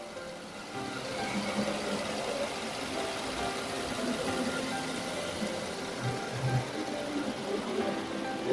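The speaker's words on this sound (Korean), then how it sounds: "소음 없이 조용한 엔진 상태" A Genesis G80 sedan engine idles steadily, a low even rumble with a faint mechanical ticking and no voices.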